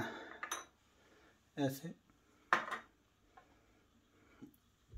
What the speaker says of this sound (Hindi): फिर इन तीनों चीजों को मिक्स करना